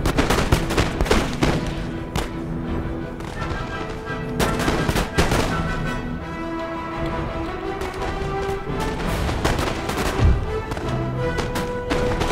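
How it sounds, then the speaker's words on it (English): Dense gunfire from an Empire Total War video game battle: volleys of musket shots and booming cannon crack repeatedly over a continuous din, loud and close with no pause for over twelve seconds, and no talking. "That's enough shooting."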